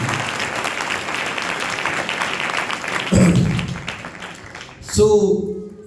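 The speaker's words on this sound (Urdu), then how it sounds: "آئیے زوردار تالیاں اپنے لیے اور اپنے خدا کے لیے۔" A church congregation claps loudly for several seconds, dense steady applause that breaks off as a voice speaks briefly, with another spoken phrase near the end.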